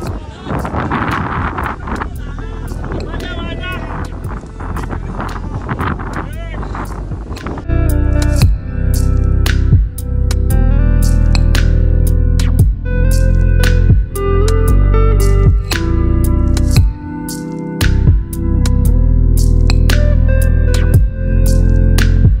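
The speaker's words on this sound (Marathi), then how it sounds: "वारा खूप आहे आणि पाऊस पण बघू शकता आता आलेला आहे।" Strong wind and rain on a hilltop, heavy buffeting gusts roaring loudly into the microphone throughout, with rain noise in the mix and a voice talking in the first part.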